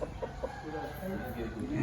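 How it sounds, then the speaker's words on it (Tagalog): Several egg-laying hens cluck softly nearby in short, scattered bursts, faint and low in level, with a bit of background murmur, in Zamboanga del Sur. "ang daming mga manok"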